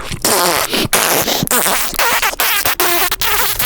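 A voice imitates a fart with a loud, sputtering, buzzy raspberry, close and drawn out in rippling bursts.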